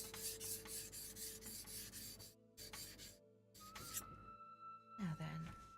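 A blade scrapes back and forth across a whetstone in steady, close rasping strokes, broken by a few short pauses and a brief clink near the end.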